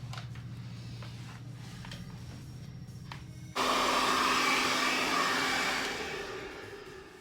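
A hair dryer fitted with a diffuser dries curly hair, a steady close blowing hum that shifts to a louder, brighter roar midway, then eases slightly toward the end.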